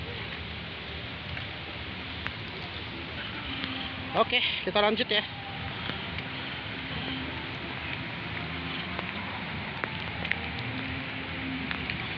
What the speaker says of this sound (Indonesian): Ini soalnya hujannya deras banget